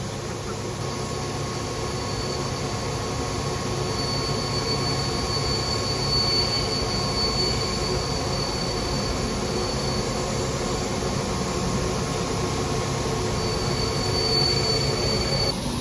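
A train locomotive at Zakopane station in Poland, with a steady, loud rumble of rolling stock and high, sustained wheel squeal that persists throughout, with no talk.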